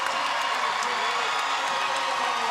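Washington Huskies home crowd at a women's basketball game against Stanford, a dense continuous roar of cheering and noise, steady and loud throughout.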